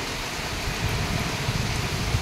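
Heavy rain pouring over a mango orchard and village surroundings, a steady close hiss of drops on surfaces with no pauses.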